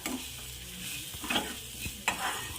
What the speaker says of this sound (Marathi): आता यामध्ये आपण शेवया ॲड करू मिक्स करायचं